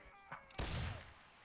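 A single sharp musket shot in the Mount & Blade: Napoleonic Wars video game, fairly close and loud, with a brief tail of noise after it.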